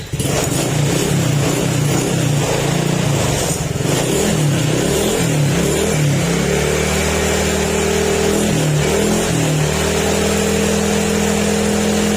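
A cold motorcycle engine runs steadily and loudly up close, its pitch rising and dipping briefly as it revs a little before settling back.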